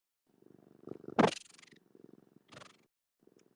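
Close cat purring in soft rhythmic pulses, interrupted by a couple of brief louder breathy bursts and short pauses.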